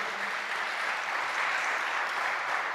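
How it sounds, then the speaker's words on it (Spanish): A church congregation at a worship service applauds, producing a steady, moderately loud wash of many hands clapping together that holds evenly throughout without talking. "denle un aplauso al Señor."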